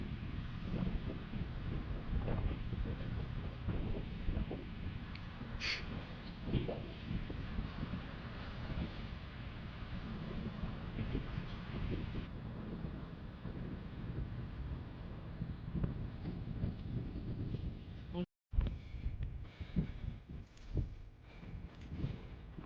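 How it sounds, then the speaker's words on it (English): Strong wind buffets the microphone on a cliff top with a continuous low roar and rumble throughout, broken by a brief cut near the end. "if I can get out of this wind"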